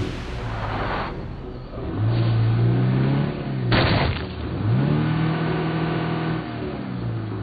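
A car in State of Decay 2 revs hard with a rising engine drone, a sharp grinding jolt of a stuck gear partway through, then revs again in a loud, continuous roar.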